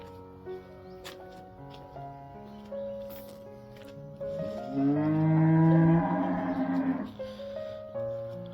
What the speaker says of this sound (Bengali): গরুও ডাকছে পাখিও ডাকছে